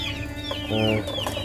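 Several chickens cluck nearby in short, overlapping calls, with one hen's louder drawn-out cluck in the middle.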